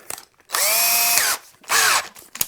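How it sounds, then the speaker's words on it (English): Two long bursts of a power drill whirring at steady high speed, close by, with a brief pause between them and small clicks around the edges, drilling with a 300mm-long 5mm bit into a guitar. "to drill this I've got a extra long series 5mm drill bit"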